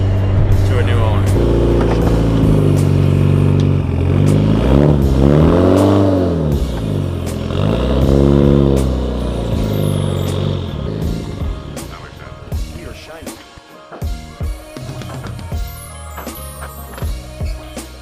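A Mitsubishi Evo drives off and revs, engine note sweeping up and down loudly with rising and falling pulls, then breaking into choppier throttle blips and clatter toward the end.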